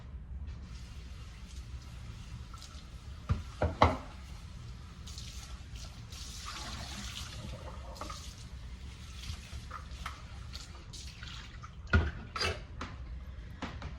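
Kitchen tap water running while something is rinsed out in a sink, a soft steady stream broken by a few clinks and bumps, faint throughout.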